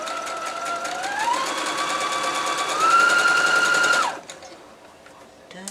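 Sewing machine stitching a quilt seam, a loud steady whirring run that rises in pitch partway through and stops abruptly, leaving a quieter room with light handling noise.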